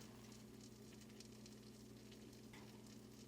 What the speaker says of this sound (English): I can hear it bubbling.